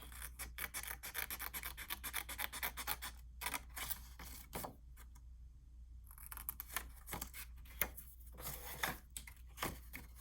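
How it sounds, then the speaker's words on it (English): Scissors snip through a paper square for craft card pockets, giving a close run of quick, sharp cuts with short pauses between and a brief quiet spell partway through. "You're just going to take your little square and cut it out."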